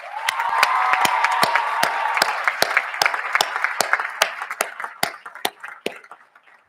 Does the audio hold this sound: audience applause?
yes